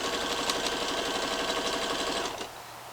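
A domestic sewing machine stitches a 1 cm seam on leggings fabric, reversing briefly at the start to reinforce it, a fast steady mechanical whirr running close and loud for over two seconds before stopping abruptly.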